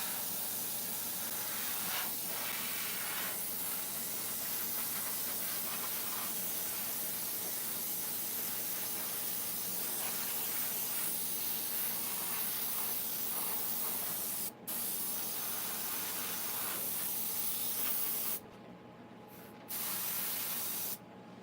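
Airbrush spraying paint onto chainsaw-carved wood, a steady continuous hiss running nearly unbroken, with short pauses near the end where the trigger is released.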